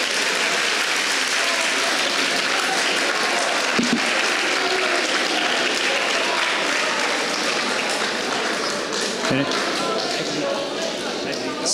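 Audience applause at an information-security talk, sustained dense clapping from a crowd that carries on steadily, with a voice speaking over it.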